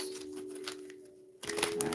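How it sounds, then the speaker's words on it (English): Quick papery riffling bursts of tarot cards being shuffled, close by, a few rounds in a row over a faint steady hum. "A couple more shuffles."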